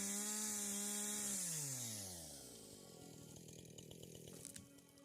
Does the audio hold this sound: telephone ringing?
no